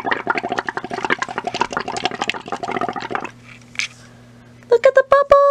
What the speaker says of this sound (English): and then blow in your straw